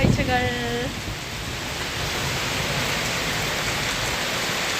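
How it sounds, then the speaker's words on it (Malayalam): Heavy rain pours down in a dense, constant hiss of drops striking surfaces, steady throughout, with a brief tonal sound at the very start. "എന്നാലും നല്ല മഴയാണ്"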